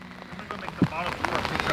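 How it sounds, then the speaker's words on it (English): Rain starting to fall outdoors in a garden, a dense patter of drops on surfaces close by, with a voice speaking over part of it. "It's starting to rain pretty good."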